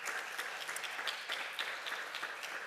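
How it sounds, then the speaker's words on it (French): An audience applauds an organizing team at a European lecture event, a steady dense wash of many hands clapping that holds evenly loud throughout without pause. "vous pouvez les applaudir"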